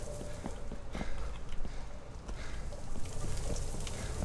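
Footsteps move through a dark free-roam FNAF-style horror game, The Joy of Creation Reborn: a steady run of soft, regular steps about twice a second over a low, rumbling background.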